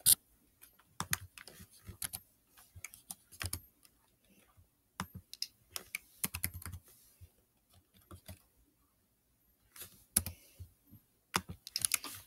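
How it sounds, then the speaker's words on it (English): Typing on a computer keyboard nearby, bursts of crisp key clicks in uneven runs separated by short pauses, with no talking. "What am I typing in my book?"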